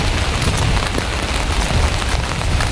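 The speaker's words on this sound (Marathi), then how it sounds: "इथे ढगढग म्हणजे पाऊस चालू झाला" Heavy rain on the first day of the monsoon, a dense, loud, steady downpour drumming close by on surfaces without a break.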